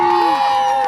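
A crowd at an outdoor fireworks event in Lyulin park cheers and shouts, with high whooping and children's voices, in a brief, loud, steady burst.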